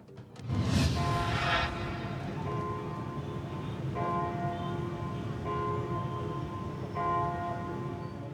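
Carillon bells of the Jaro Belfry in the Philippines ring out together, a loud, sustained chime of layered tones with fresh strikes swelling the sound at intervals, echoing over a steady background hum.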